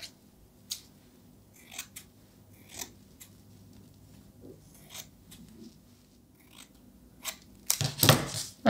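Scissors snip through veil fabric in sparse, crisp cuts, spaced irregularly, then a louder cluster of rustling and crunchy snips at the end.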